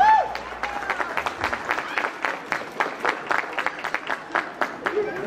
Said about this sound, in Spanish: Que se escuche fuerte el aplauso.